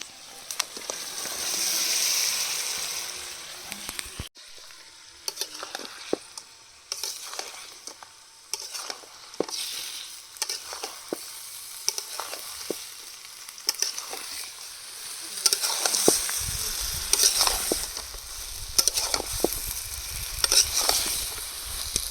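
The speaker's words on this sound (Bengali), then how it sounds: "এবার ভেজে রাখা চিকেনগুলো দিয়ে দেবো" Fried chicken pieces stirred in a hot pan for chili chicken, with a steady close sizzle and hiss under a run of scraping spatula strokes that grow louder and busier toward the end.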